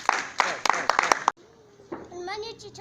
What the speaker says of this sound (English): Your hands together for him, please. Clap, clap.